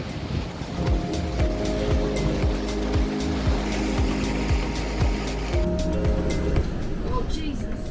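Ocean waves buffet a sailing boat on a blustery, 35-knot day, giving a steady wash of water and wind with repeated knocking thumps from the hull and rigging, fairly loud throughout.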